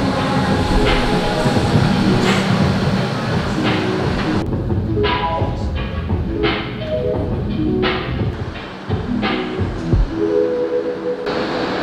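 A train rolls along rails, a loud, steady rumble with rhythmic clacks and occasional metallic squeals from the wheels, heard from inside the carriage.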